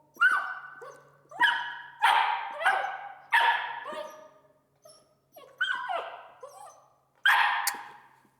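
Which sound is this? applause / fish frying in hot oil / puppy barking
puppy barking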